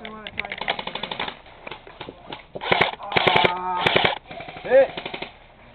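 Rapid automatic gunfire from Call of Duty: Black Ops 3 game play, several short bursts mixed with game sound effects, with a player speaking over the action.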